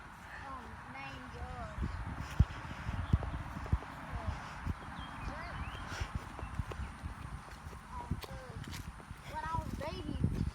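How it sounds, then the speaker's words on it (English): Two horses on a farm walk with steady hoof clip-clops, irregular and moderately near, under a constant outdoor background with people talking over it. "Got two beautiful horses over there."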